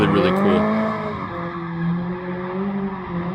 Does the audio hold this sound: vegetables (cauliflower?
no